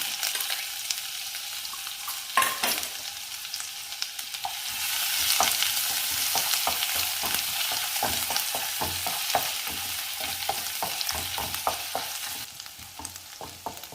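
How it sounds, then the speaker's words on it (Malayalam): Crushed garlic and ginger fry in hot oil with a steady, bright sizzle that swells and holds, broken by frequent sharp clicks and scrapes of stirring against the pan, close and fairly loud. "അതിലേക്ക് 8 വെളുത്തുള്ളി അല്ലി മീഡിയം സൈസ് ചതച്ചതും 1 മീഡിയം സൈസ് ഇഞ്ചി ചതച്ചതും ചേർക്കാം."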